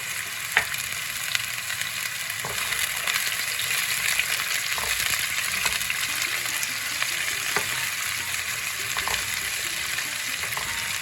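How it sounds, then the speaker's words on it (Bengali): Finely chopped onions fry in a pan with a continuous loud sizzle, broken by occasional stirring clicks and scrapes, with no talking. "এখন পেঁয়াজটা দিয়ে দিচ্ছি, ছোটো ছোটো করে যে পেঁয়াজটা কেটে রেখেছি এটা দিয়ে দিচ্ছি।"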